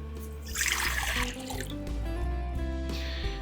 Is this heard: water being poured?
yes